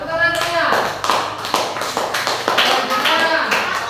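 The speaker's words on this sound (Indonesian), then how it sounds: "tepuk tangan semuanya" A group of students claps after a classroom presentation, sharp hand claps spreading into a short burst of applause, with a voice heard speaking at the start.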